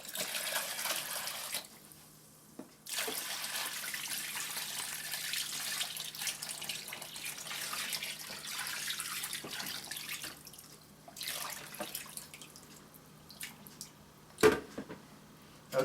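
Pastrami brine in a pan is stirred with faint, soft liquid sloshing and swirling, with a brief lull early on and a small knock near the end.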